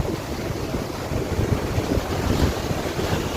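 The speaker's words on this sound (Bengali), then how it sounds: "ঢেউগুলো পুরো একদম পাড়ের মধ্যে আছড়ে আছড়ে পড়ছে" Rough sea surf crashing onto the shore at Digha beach, with a steady roaring wash of waves under strong wind buffeting the microphone, loud and continuous.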